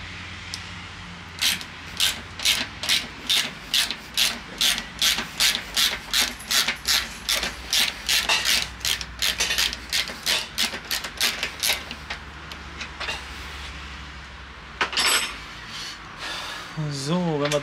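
Rapid rhythmic ratchet clicks from loosening the fuel tank bolts on a Harley-Davidson Fat Bob motorcycle, a steady run of about twenty close strokes in a workshop, followed by scraping and a short squeak near the end.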